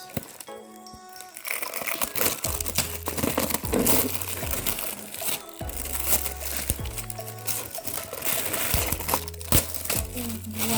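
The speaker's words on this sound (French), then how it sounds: "je vais enlever le plastique" Continuous crinkling and rustling of plastic wrap being pulled off a newly bought item, close and busy, with sharp crackles and tearing bursts throughout.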